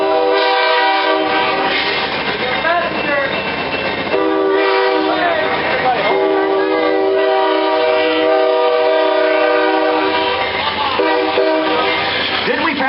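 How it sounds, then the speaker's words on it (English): An Amtrak train passes close by with a loud, sustained horn blast and rumbling wheels, the horn sounding in long repeated chords throughout. "Oh, it's an Amtrak train."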